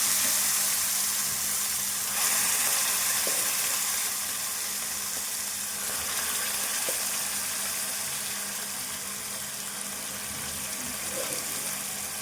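Curry tipped into a hot pan on an old-style home stove sizzles steadily and loudly for the whole stretch, a dense, even hiss with faint bubbling and no talk.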